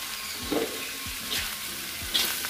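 Cauliflower florets stir-fried in a pan with green beans, carrots and yellow spice paste give a steady sizzle, broken by a few sharp scrapes and clacks of a spoon stirring, with no voices.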